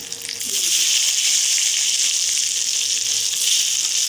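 Eggplant pieces dropped into hot oil with turmeric for an Assamese sesame fish curry, a loud, steady sizzle rising after a brief quieter start and hissing continuously to the end.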